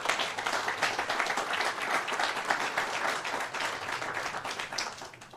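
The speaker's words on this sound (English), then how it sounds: "give them a round of applause for their leadership" Audience at a New Jersey governor's announcement event giving a round of applause, a sustained, moderately loud patter of many hands clapping with no talking over it.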